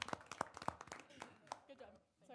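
A few people clap sparsely in a small city council work meeting room, brief uneven claps mixed with quiet talking at a low level.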